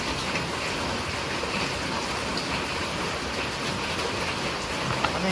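Heavy rain pours steadily during a camping trip, a dense, continuous wash of broadband hiss with no breaks, close and enveloping, with no voices.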